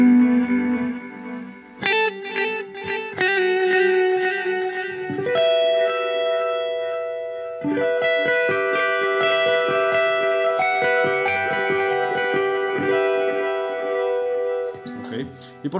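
An electric guitar played through the multi-effect setting of a Blackstar ID:CORE 20 amplifier rings out in sustained, shimmering chords and single notes, heavily processed with chorus-like modulation and trailing echo, loud and close.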